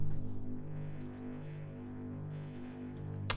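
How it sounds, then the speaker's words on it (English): An amplified guitar cable end pressed by hand gives a steady, buzzing electrical hum with a pulsing wobble, ending in a short crackle. "pressing the end of a guitar cable while it's amped up"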